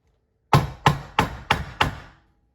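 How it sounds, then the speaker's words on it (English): A small sledgehammer strikes an anvil five times in an even rhythm, each blow a sharp, close metallic knock that decays quickly, followed by silence. "all I did was grab my trusty little sledgehammer here, just hold on, it works better on my my anvil."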